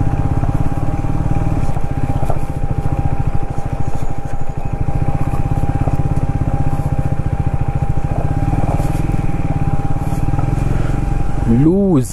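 Motorcycle pulling away in first gear on a rough, deteriorating road between Phugtal monastery and Leh, a loud steady throbbing engine with wind buffeting throughout, close and continuous.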